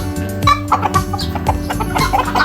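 Polish breed chickens cluck at a forest garden farm in Phanat Nikhom, giving close, loud bursts of quick clucks in an uneven rhythm with no talking.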